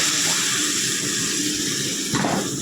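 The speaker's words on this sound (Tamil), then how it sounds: "நம்ம இதில் புளி கழிச்சு வச்சு அதை ஊற்ற வேண்டியதான்" Tamarind water poured into a hot cooking pan with frying masala gives a steady close hiss and sizzle, with a brief louder splash near the end.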